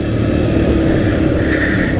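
A dirt bike engine revs steadily and loudly while being ridden, a dense continuous drone with a slight rise in pitch near the end.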